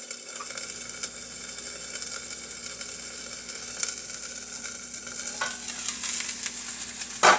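Mushrooms sizzle steadily in a skillet while a fork pushes them around, giving occasional scraping clicks against the pan, with a sharper burst of crackle near the end; close and fairly loud, with no talking.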